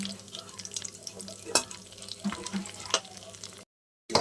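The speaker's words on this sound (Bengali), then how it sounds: "এবার ওই তেলের মধ্যে আমি কড়াইয়ের তেলের মধ্যেই আমি দিয়ে দেবো খানিকটা গোটা গরম মশলা।" Whole garam masala sizzles in hot oil left from frying chicken in a kadai, a close crackling hiss with scattered pops and stirring scrapes that cuts to silence near the end.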